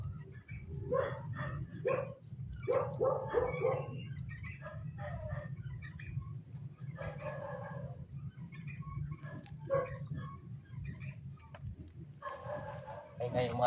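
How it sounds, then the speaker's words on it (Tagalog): Multiple dogs bark in scattered bursts at moderate distance, with a rooster or other birds sounding faintly and a constant low hum underneath, outdoors during motorcycle cleaning. "Kapag-ingay ng aso."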